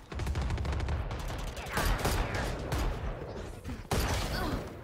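Rapid gunfire bursts in a Valorant Team Deathmatch round, dense volleys of shots running almost continuously with brief gaps and sharp new onsets near the end, loud and close with faint voice underneath.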